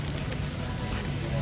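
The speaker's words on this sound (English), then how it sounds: "It's still raining" Torrential rain pours down around a hotel carport during a storm with gale-force winds, making a steady, dense hiss with no break.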